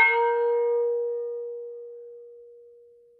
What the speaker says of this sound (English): So there's this sort of chrome gong.